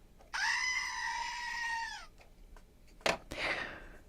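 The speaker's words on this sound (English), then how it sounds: "This is our goat." A goat lets out one long, loud, wavering bleat lasting nearly two seconds, followed by a sharp knock and a shorter, rougher bleat-like cry.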